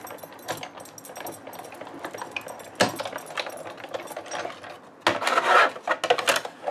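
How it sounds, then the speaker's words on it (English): A die cutting machine runs a die through two layers of cardstock for a circle fold card, producing close mechanical rolling and grinding clatter with scraping bursts and a louder stretch near the end, no speech. "If you've got a good die cutting machine, it should still cut through the two pieces of cardstock"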